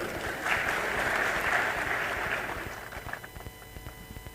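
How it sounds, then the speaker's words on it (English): Conference audience applauding at an event in Chennai, a dense sustained clapping that fills the room and then thins out into scattered individual claps toward the end. "Thank you, Mohit, for getting all the audience to stand up and at least clap"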